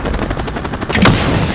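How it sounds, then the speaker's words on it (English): A 30mm aircraft gun run from Call of Duty Modern Warfare (2019) rips out as a loud, rapid burst of heavy automatic fire, dense and continuous, peaking into a sharp impact near the end. "Mike, here comes gun run."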